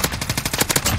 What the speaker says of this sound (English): It's an LMG.